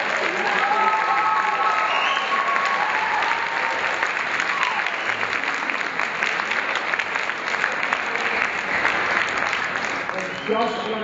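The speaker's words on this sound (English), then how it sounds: "So another round of applause for his contribution." Sustained audience applause at a tribute event, a dense even round of clapping that carries on for several seconds with a few voices blended in.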